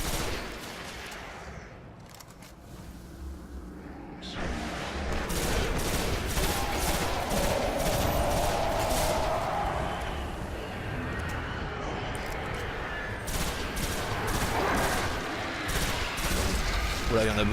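Rifle fire in the video game Destiny against a crowd of small enemies, sustained bursts of shots and booms filling the scene, with someone talking over much of the action.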